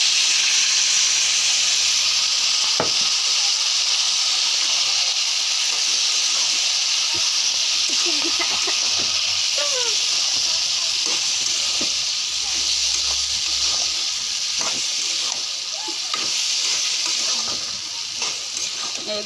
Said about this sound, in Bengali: এগুলো এখন ভাজা ভাজা করবো।